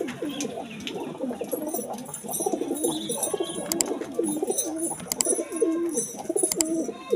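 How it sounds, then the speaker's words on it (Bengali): Pigeons kept for sale coo continuously in overlapping, throaty phrases, close and clear, with a few light clicks and rustles among them. "কবুতরগুলো সেল আছে।"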